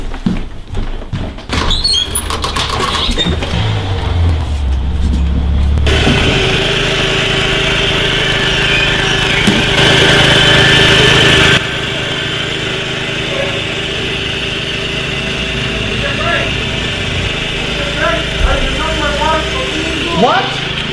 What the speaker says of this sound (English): Just turn off the lawnmower.